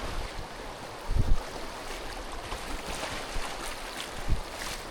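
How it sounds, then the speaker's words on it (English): A pack raft drifting down a flowing river, with a continuous rush of moving water and a few soft knocks and splashes against the boat, no talking. "We're having a good float down the river."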